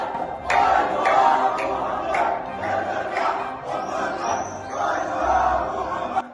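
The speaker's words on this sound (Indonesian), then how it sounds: "dari dalam Masjid Al-Aqsa terdengar suara orang-orang meneriakkan yel-yel" Crowd chanting slogans inside Al-Aqsa Mosque, loud rhythmic shouted bursts from many voices echoing continuously.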